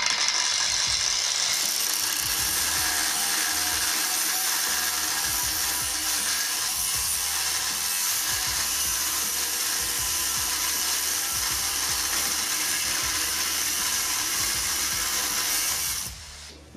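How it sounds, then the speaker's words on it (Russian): A Procraft angle grinder cuts under load with a loud, continuous high-pitched whine and grinding roar lasting about sixteen seconds, then winds down abruptly at the end. "Сами видите, болгарка мощная, хорошо собранная, классно."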